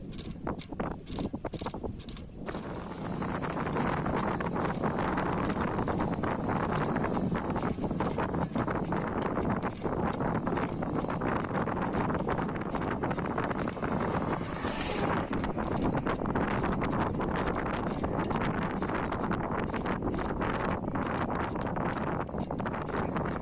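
Strong wind buffeting a microphone while cycling along the Veeranam lake road in India, a loud steady roar with gusty crackles that runs unbroken throughout.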